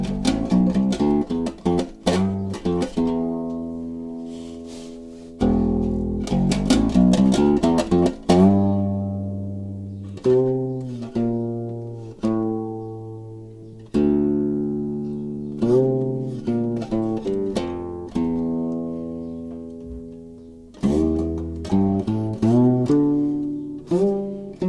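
Unplugged custom electric bass guitar played acoustically, its plucked notes and short riffs ringing clearly with sustained decays, up close with no voices.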